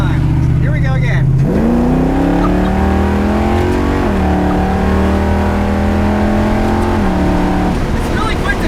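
A 1970 Chevy Nova with a fully built transmission accelerates hard, its engine note climbing through gears with two quick shifts, loud and close from inside the car while people talk underneath.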